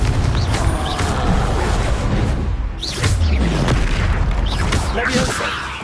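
Confringo explosive spell blasts in the Hogwarts Legacy video game, a loud, continuous wash of booming impacts and whooshes layered densely throughout the combat.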